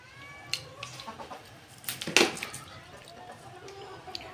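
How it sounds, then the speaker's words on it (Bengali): A domestic chicken wandered into a house clucks a few times, with short scattered calls and one louder burst near the middle, fairly close in an otherwise quiet room. "মুরগি ঘরে চলে আসছিলো"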